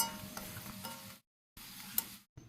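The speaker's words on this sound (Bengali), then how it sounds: "পেঁয়াজটা ভাজা একটু হয়ে যেতেই তারপরে দিয়ে দিলাম হলুদ গুঁড়ো" Chopped onion frying with turmeric powder in a tempering, a soft, close sizzle with stirring scrapes that cuts out twice into silence between bursts.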